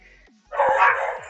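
A dog lets out one long, loud bark that stretches into a yelp, nearby and alone, after a brief quieter moment.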